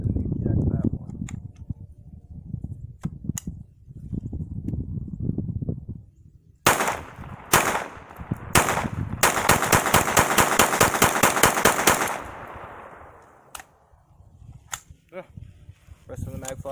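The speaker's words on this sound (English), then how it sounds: "Alright, so test firing went alright. Was able to run through a couple of mags, no problem." A Tec .22 pistol fires through its magazine in single sharp cracks followed by a rapid string of shots, loud and close, with someone talking before and after the firing.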